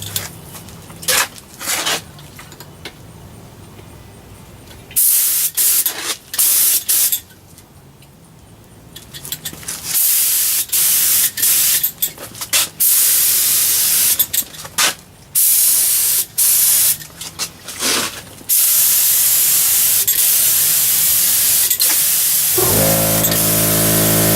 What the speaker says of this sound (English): I'm ready to spray on the last coat of sanding sealer here